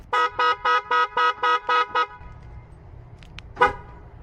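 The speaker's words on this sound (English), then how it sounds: "don't know why the alarm started going off when I pressed lock" A 2006 Dodge Durango car alarm goes off after the lock button is pressed, with eight loud, evenly spaced horn honks close by, followed by quieter clicks and a short chirp.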